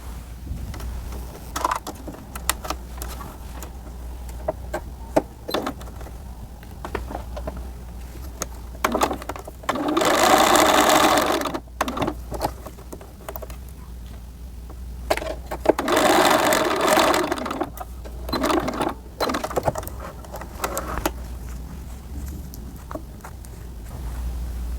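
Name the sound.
sewing machine stitching denim pocket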